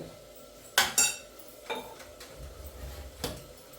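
Freshly washed goat tripe goes into a pan with softened tomatoes and is stirred. A few sharp metallic clanks of a spoon against the pan sound, with quieter scraping between them, fairly faint overall.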